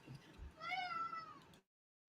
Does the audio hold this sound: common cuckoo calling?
no